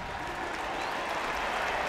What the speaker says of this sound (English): Crowd is up. Applause here in Baltimore.